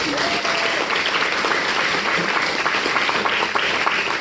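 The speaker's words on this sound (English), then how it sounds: "Give her a round of applause." A live improv audience gives a performer a steady round of applause, dense clapping filling the room at even loudness throughout, with a faint voice briefly audible underneath.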